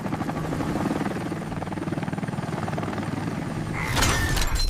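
A helicopter sound effect beats out a steady, fast rotor chop at close range, holding even for several seconds before swelling louder with a sharp, bright burst near the end.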